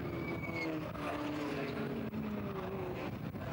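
Racing saloon cars, including a Vauxhall Astra, race at Brands Hatch in a 2010 DSMPC event, heard as a distant, wavering engine drone under steady wind noise.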